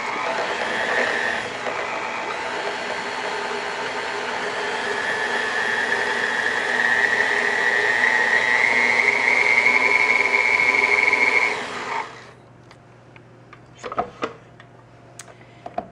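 An electric mixer whirs steadily through a peach torte batter of almond flour, eggs and almond extract, a loud even motor drone that cuts off suddenly, followed by a few light clicks and knocks.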